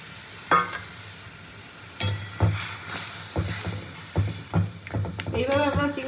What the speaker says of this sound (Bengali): তো মাছের ঝোল তো আমার ফুটে উঠেছে। এবার আমি উপর থেকে মাছ ভেজে রাখা মাছগুলো দিয়ে দেবো।